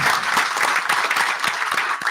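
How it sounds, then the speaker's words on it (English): An audience applauding at an evening presentation event, dense and steady clapping from a crowd held at a fairly loud level for about two seconds. "Let's give her a big round of applause."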